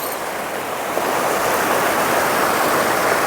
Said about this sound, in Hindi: ये पानी कितनी तेजी से चल रहा है ना, बहुत तेज बहाव है यहाँ